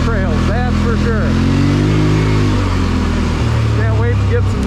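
Polaris Sportsman Highlifter 850 ATV engine revving in mud, loud and close with rising and falling pitch sweeps over a heavy low rumble, a person talking over it.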